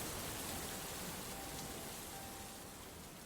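Steady rain falling on a surface, an even hiss of dense drops that stays constant and moderately quiet throughout, with no voices.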